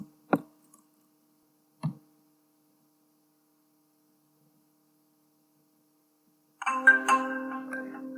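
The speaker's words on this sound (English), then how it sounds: "So you see I got a notification" A live chat message notification chimes on a WordPress site: two short clicks come first, then after a long silence a brief bright multi-tone chime rings out clearly.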